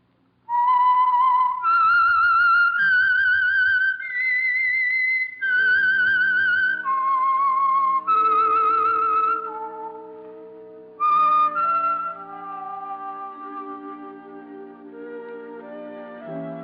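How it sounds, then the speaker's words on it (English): A clear, loud whistled signal tune of sustained notes rises and falls, followed by a softer fading musical tail, opening a 1946 radio program. "That whistle is your signal for the Signal Oil program"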